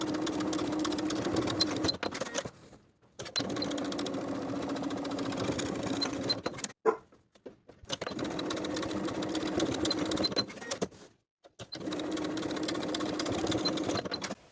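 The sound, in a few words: sewing machine edge stitching and top stitching a jeans coin pocket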